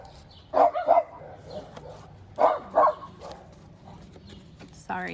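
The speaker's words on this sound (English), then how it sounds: "Sorry, those are our dogs." Small dogs bark outdoors in short, sharp bursts, first a quick pair and then two more pairs, with a whimpering yip at the end, moderately near, over a faint hum of voices.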